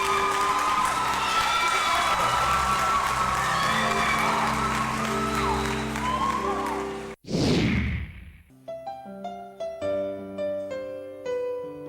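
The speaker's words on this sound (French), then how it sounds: "Je vous demande d'applaudir très fort" Audience applause and cheering for a singer at a televised talent show semi-final, a dense burst of clapping with whoops that fades out before music begins.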